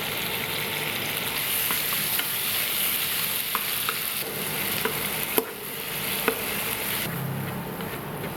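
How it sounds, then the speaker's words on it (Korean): Tomatoes fry in a reused pan with a steady, close sizzle that lasts the whole time, broken by a few light clicks from a utensil. No one speaks. "자, 이제 아까 사용한 팬에 토마토도 똑같이 볶아줍니다."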